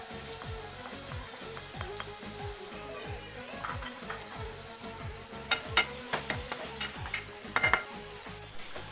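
Chicken with garlic, cumin and coriander powder frying in a pan, a steady sizzle broken by repeated scraping stirs, with sharp clinks of the spoon against the pan growing louder toward the end.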